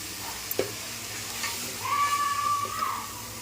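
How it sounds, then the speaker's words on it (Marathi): Misal masala paste fries in a pot, with a ladle stirring and scraping against the metal and a steady sizzle that swells midway, heard up close with no talk. "हा वाटण छान परतलं आहे"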